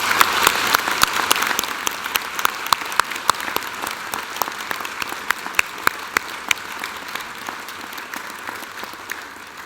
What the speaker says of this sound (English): Please join me in applauding the wonderful achievements of our graduates.